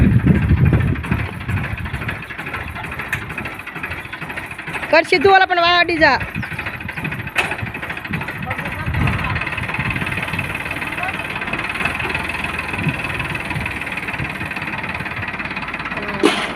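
A tractor engine runs steadily throughout with a low rumbling drone, while people talk over it and a brief whistling squeal rises midway.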